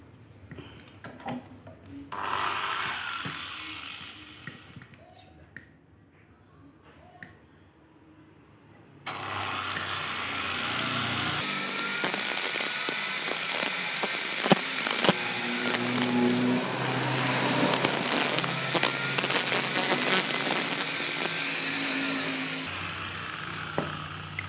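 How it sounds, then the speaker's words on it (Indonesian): An angle grinder cutting the cover of a scooter shock absorber. After some quiet handling, a loud, steady, high whine starts and holds for about fifteen seconds nearby, with no talking. "Oke, kita mulai gerinda ya."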